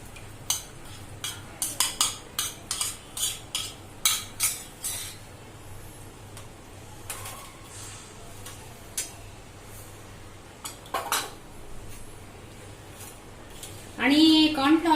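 A spoon stirring small chicken pieces in a pot for Manchow soup: a run of sharp metallic clinks and taps in the first half, fewer scrapes later, then a voice at the end.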